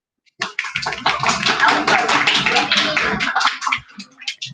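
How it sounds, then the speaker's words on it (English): Schoolchildren clapping together at a celebration assembly, a dense burst of quick claps that builds fast, holds steady for a few seconds and then thins out. "Can we give them a clap?"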